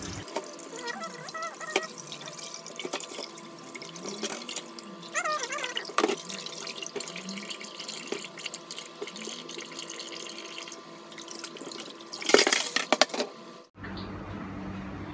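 Tap water runs and splashes in a kitchen sink while raw chicken is washed, with drips, clinks and handling noises over the steady flow before it cuts off near the end.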